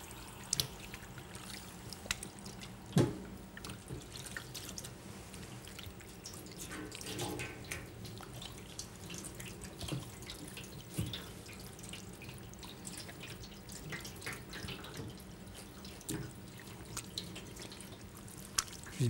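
A thin stream of cold tap water runs steadily while a round salmon is descaled under it, with faint drips and soft clatter over a continuous hiss, close and fairly quiet.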